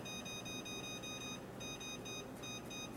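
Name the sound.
kitchen timer beeping while being set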